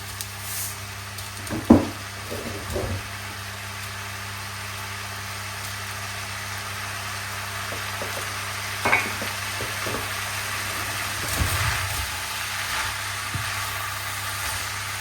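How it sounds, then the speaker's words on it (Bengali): Bottle gourd bhaji with oil, salt and turmeric cooks in a pan, giving a steady low sizzle with occasional scrapes and stirring knocks, fairly close and without speech. "সব কিছু একসাথে দিয়ে ভাজিটা বসাই দিচ্ছি।"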